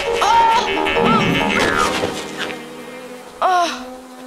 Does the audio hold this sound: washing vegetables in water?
no